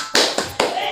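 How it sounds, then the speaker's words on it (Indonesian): A class performs its concentration clapping routine: three sharp, close claps in a quick, slightly uneven rhythm, with a ringing room tail after each. "kita akan tepuk konsentrasi terlebih dahulu ya"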